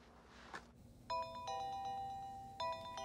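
A phone ringtone plays a repeating electronic melody in two bursts, moderately loud over a quiet room with a faint earlier rustle.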